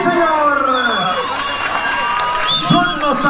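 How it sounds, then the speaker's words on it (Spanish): Crowd at a bull-riding rodeo in Río Verde cheering and applauding, with whoops and a steady roar of voices and loud announcer-style shouting over the top, dense and close throughout. "¡Que se oiga el aplauso fuerte, sí señor!"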